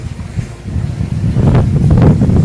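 Steady wind rushing and buffeting close to the microphone at Lake Salda, Turkey, rumbling low and swelling stronger toward the end, with no voices.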